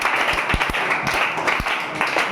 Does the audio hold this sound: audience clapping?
yes